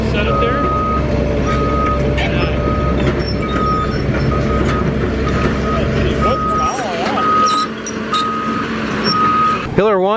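A truck's reversing alarm beeps in a steady, evenly spaced series over a diesel engine rumble on a farm job where cranes and excavators move a large propane tank, with people talking in the background.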